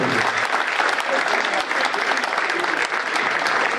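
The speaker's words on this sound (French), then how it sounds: "je crois qu'on peut collectivement nous applaudir" A festival crowd applauds volunteers and public services at an August 15 celebration in Outremeuse, dense continuous clapping from many hands, loud and even from start to finish.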